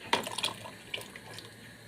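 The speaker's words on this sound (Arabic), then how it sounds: "هنحط كوبايه الخل اهي" A cup of vinegar poured for homemade ketchup in a home kitchen, with a brief close splash of liquid followed by a few quieter trickles and drips.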